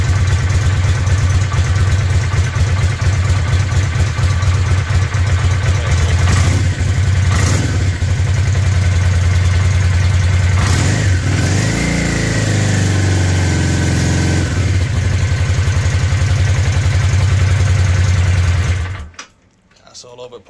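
Small engine running during a 12 V voltage regulator test, loud steady idle with a low drone and brief revs around the middle, then it cuts off near the end.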